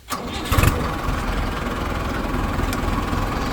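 A Mahindra Arjun Ultra 555 tractor engine cranks briefly, catches with a loud burst, then settles into a steady chugging idle, close and without voices.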